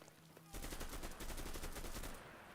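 Scoped MKB-42H assault rifle firing in the WWII shooter Enlisted, a loud, rapid automatic burst of closely spaced shots lasting about two seconds, close and steady, then cutting off.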